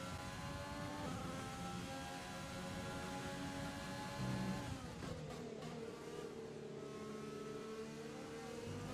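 A Formula 1 car in the F1 2020 racing game roars at high revs, its engine note sweeping down then climbing again as the car oversteers and slides with wheel spin, loud and continuous with no voices.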